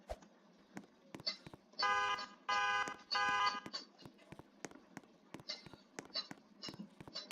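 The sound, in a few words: alarm going off in a house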